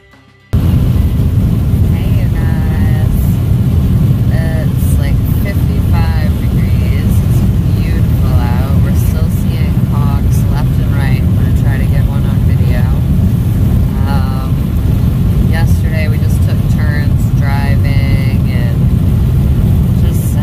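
Steady car road noise from inside a moving vehicle on a long road trip, a constant low rumble filling the whole stretch while people talk intermittently over it.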